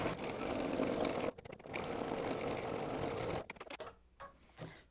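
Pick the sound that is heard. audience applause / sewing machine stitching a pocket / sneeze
sewing machine stitching a pocket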